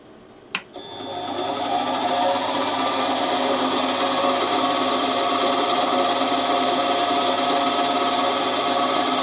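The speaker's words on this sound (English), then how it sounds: "We start the mill at the depth of the previous slot" A milling machine cutting a slot on a rotary table setup, with a sharp click near the start followed by a steady, loud, continuous whine and drone of the running cutter.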